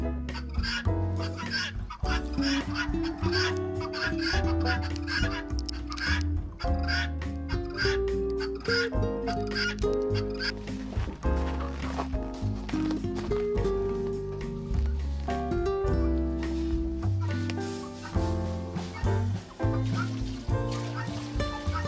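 A flock of Black Cochin chickens, a meat breed, squawks and cackles loudly and almost nonstop in a dense, overlapping chorus of harsh calls for over twenty seconds.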